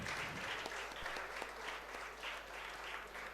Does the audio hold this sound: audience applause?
yes